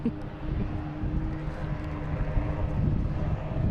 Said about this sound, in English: I heard this big revving of engine.